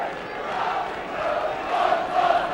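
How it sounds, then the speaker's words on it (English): A large stadium crowd at a 2008 rugby league cup match between Hull KR and St Helens roars steadily, swelling louder toward the end. "Crowd getting behind them."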